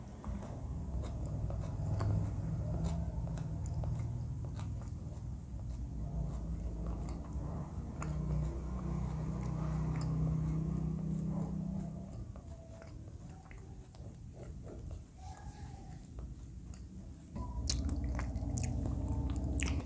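Someone eating diet scrambled eggs with spinach, seasoned with garlic, turmeric and ginger, with close, continuous soft chewing and moist mouth sounds, fairly loud throughout with a brief quieter stretch.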